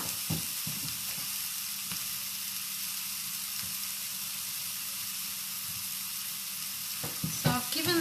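Wild mushrooms frying in a hot pan, a steady loud sizzle and hiss running throughout, with a few brief stirring clatters near the end.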